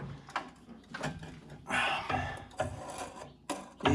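Pry bar levering against bolts in the crank pulley to turn over a roughly 1988 Jeep Wrangler engine, heard as several close, rough scraping and grinding strokes with short pauses between pulls.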